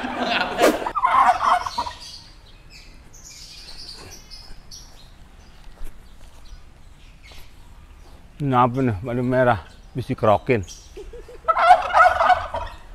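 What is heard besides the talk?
chickens clucking nearby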